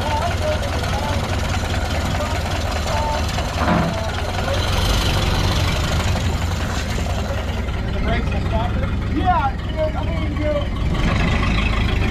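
A Ford Model A engine idles steadily with its fuel shut off, running the carburetor dry, a loud continuous rumble close by with brief voices over it.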